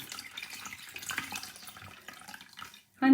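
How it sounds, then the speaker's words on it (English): Tap water runs into a sink while a face is rinsed, a moderate splashing flow that tails off before a short sharp burst at the very end. "And then you just rinse it off."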